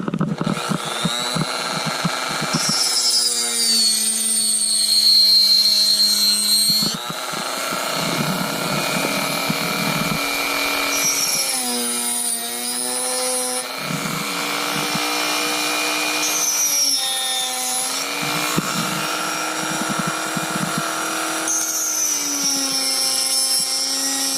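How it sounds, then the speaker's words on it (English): A Dremel rotary tool whines while carving a letter L into a wooden walking stick, its high pitch rising and dipping as it bites into the wood, loud and close with no talking. "we just got to do the L with the Dremel so we can carve it out"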